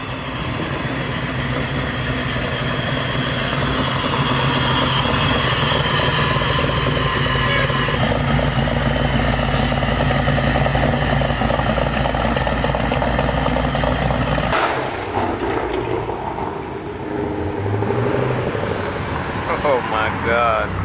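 Supercharged Chevelle engine idling at an outdoor car show, a loud steady rumbling drone that drops away near the end, with voices talking over it.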